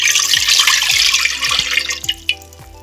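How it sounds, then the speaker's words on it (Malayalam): Water pours into a pot for drumstick soup with a continuous splashing gush that thins out toward the end, alongside a few low knocks and scrapes. "അപ്പോൾ വെള്ളം നമുക്ക് ഒഴിച്ചു കൊടുക്കാം."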